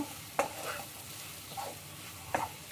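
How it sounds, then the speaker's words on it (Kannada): Coriander powder and spices fry in a pan for a dry raw banana stir-fry. A faint, steady sizzle runs under it, with three separate scraping stirs of a spatula, close and quiet. "ಚೆನ್ನಾಗಿ ಫ್ರೈ ಮಾಡಿ, ಅದು ಹಸಿ ಸ್ಮೆಲ್ಲೆಲ್ಲ ಹೋಗಬೇಕು."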